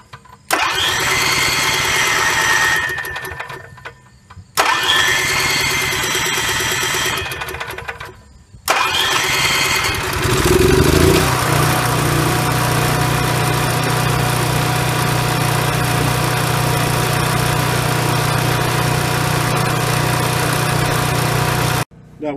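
An Onan RV generator cranks in several loud bursts with short pauses, then catches and runs with a steady, loud engine drone that surges slightly up and down before settling.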